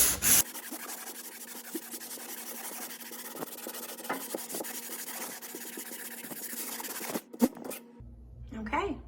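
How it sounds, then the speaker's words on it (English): Wall sander with a mesh screen rubbing over a drywall patch, a steady close scraping rasp that runs almost the whole time, with a few brief knocks near the end. "now I'm gonna take this wall sander, it's kind of got like a screen on it, to smooth out that patch"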